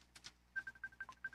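A phone being dialed to make a call: a few soft taps, then a quick series of short electronic beeps in a steady rhythm, faint and close, with no talking.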